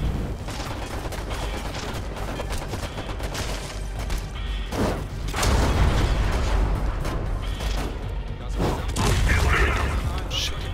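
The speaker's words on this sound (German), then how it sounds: "Oh, Granate!" Video game combat in Homefront: The Revolution, with a grenade explosion among heavy booms and bursts of gunfire, loud and close, as someone talks over the action.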